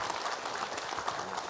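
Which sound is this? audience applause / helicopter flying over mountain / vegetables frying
audience applause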